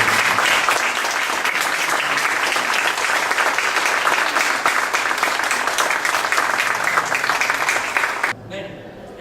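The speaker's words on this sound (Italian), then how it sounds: "Facciamo a loro un grande applauso" An audience at a Sicilian evening show breaks into sustained, loud applause, a dense wash of clapping that carries on for several seconds before abruptly fading to a quieter murmur at the end.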